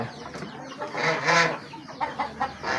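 A hen on a small poultry farm, sitting to lay eggs, gives a run of low, throaty clucks and a couple of louder rising calls, close by and alone.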